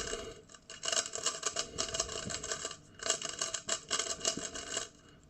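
A 3x3 Rubik's cube being scrambled with rapid, continuous plastic clicking and clacking of turning layers, close and fairly soft, with a couple of brief pauses between flurries.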